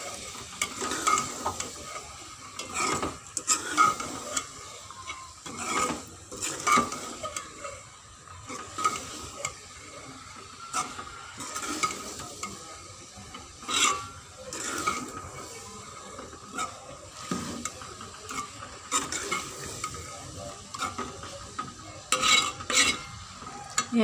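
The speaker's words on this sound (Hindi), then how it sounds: "इनको हम अच्छी तरह से मिक्स करेंगे।" Continuous stirring and scraping of potatoes and bell peppers in a pan, with irregular clinks of a utensil against metal over a soft sizzle.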